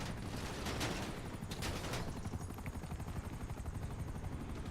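Helicopters in GTA Online make a steady, fast rotor chop that runs the whole time, with bursts of noisy clatter in the first seconds.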